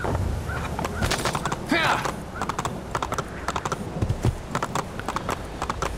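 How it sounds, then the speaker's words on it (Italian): Horse hooves clip-clop in the Assassin's Creed II video game, a quick run of sharp, evenly paced hoofbeats that slows into sparser steps. "Datemi il cavallo, va."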